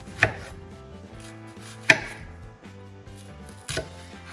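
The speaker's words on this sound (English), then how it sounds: "Try to go all the way to the middle, using mostly the tip of my knife, not really the back end of the knife." Knife chops through an onion on a cutting board, three separate sharp strikes spaced roughly two seconds apart, close and clear over a quiet kitchen background with a faint steady hum.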